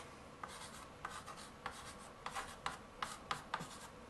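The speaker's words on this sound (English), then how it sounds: "I can't write for shit on a chalkboard" Chalk taps and scrapes across a chalkboard in a garage workshop, about a dozen short strokes in an uneven rhythm, quiet and close with no talking.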